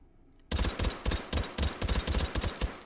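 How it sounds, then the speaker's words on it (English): A suppressed Beretta 93R fires in rapid three-round bursts in the VR shooter H3VR, several loud clattering bursts starting after a brief silence and repeating in close succession. "Stock and suppressor, 3-round burst."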